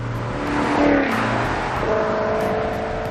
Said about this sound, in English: put it in sport mode so I could hear that exhaust